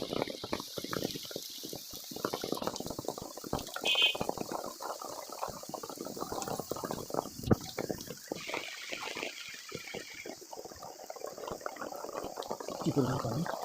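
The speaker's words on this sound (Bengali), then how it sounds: "বৃষ্টি বৃষ্টি বৃষ্টি।" Rain pours down with water splashing and running over the ground on a flooded street, a steady wet hiss with gushing bursts, close by, with a voice speaking briefly over it.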